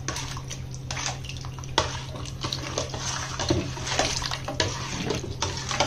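Water is poured and stirred for pani puri in a home kitchen, a continuous splashing stream with occasional light clinks of a utensil, close and without speech.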